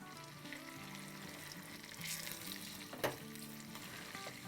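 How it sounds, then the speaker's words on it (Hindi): Tadka tempering being poured into Instant Pot daal gives a quiet, steady frying sizzle with a brief surge of crackling and a small clink partway through. "और अब हम ले आते हैं अपना तड़का।"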